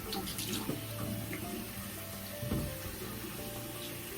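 Tap water runs steadily into a bathroom sink, a constant close rushing and splashing with a few small clatters, and no voices over it.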